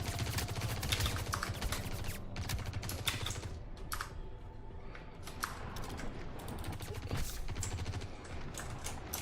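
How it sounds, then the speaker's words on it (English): Rapid bursts of gunfire crackle throughout, dense and continuous against a busy, noisy background, like a video game firefight. "I hear gunshots. Is that gunshots?"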